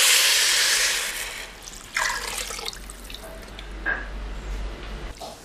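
Water is poured from a tumbler into a pot of masala rice for village-style Tamil egg biryani. A soft, continuous splashing pour plays close up and alone, with a few brighter gurgles and spills as the flow shifts.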